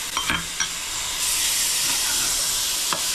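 Chopped tomato stirred into prawns and boiled banana flower frying in a pan for Bengali mocha chingri: continuous close sizzle with a few sharp spatula scrapes and taps, no voices.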